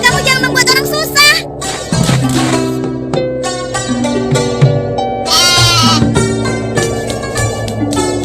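Goat bleating repeatedly in a bright, wavering, nasal voice, close and loud, with several calls overlapping across the stretch and some background noise between them.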